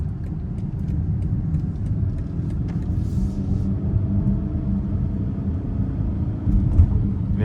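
A 2025 BMW X5 M60i xDrive accelerates in Sport Plus mode onto an interstate, its engine a steady, deep rumble heard from inside the cabin, swelling slightly toward the end.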